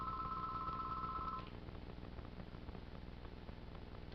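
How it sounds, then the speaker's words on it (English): A telephone rings once, a short electronic warble heard faintly over a hissy background, cut off partway through as someone picks up the receiver. "He'll get the phone. Yeah, see, you got it on the first ring."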